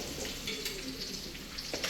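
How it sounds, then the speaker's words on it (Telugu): Chopped onions with curry leaves fry in a pan for a Nellore-style fish curry, giving a close, steady sizzle with scattered crackles and stirring scrapes. "ఇది బాగా వేయిస్తున్నారు కదన్నా"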